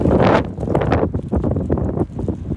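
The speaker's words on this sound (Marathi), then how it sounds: "केवढी हवा सुटली बघा इथं, खूप विंडी आहे." Strong gusty wind blowing outdoors, roaring loudly and continuously across the microphone with rough, buffeting surges and no voices.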